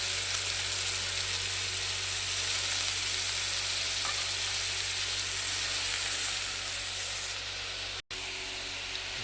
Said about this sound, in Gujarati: ડુંગળી પાકવા માંડી છે